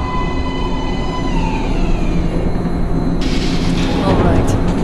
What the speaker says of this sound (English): Please step away from the edge of the platform.